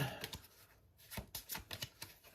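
Playing cards shuffled during a tabletop game of the American Revolutionary War in the west, heard as a quick run of crisp, ruffling snaps and slaps, close and fairly quiet, with no talk.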